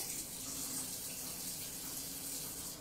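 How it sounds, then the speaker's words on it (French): Boiling water pours in a steady, continuous stream into a cooking mixture for a tart filling with egg yolks and parmesan, a soft gushing rush with no talk over it. "Je rajoute mon eau bouillante."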